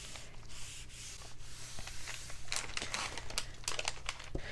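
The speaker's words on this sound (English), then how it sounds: "And then I just iron it down with a hot iron." A hot iron pressed and slid over freezer paper laid on watercolor-painted fabric, giving soft rubbing, crinkling and scraping strokes that come in quick, irregular bursts and are fairly faint.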